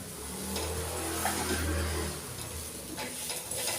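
Bhagar (barnyard millet) thalipeeth frying on a pan over a full gas flame, a steady close sizzle with a low hum underneath and faint occasional scrapes.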